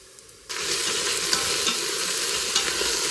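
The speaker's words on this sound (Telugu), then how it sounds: "కొంచెం సేపు ఫ్రై చేద్దాం." Mixed vegetables hit hot oil in an Instant Pot on sauté mode, and after a brief quiet moment they burst into a loud, continuous sizzle with faint stirring clicks underneath.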